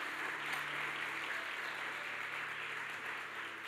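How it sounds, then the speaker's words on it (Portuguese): A church congregation applauds during a worship service, a steady wash of clapping held at an even level from start to finish, with no clear voices over it. "aplauda bem forte o nome de Jesus"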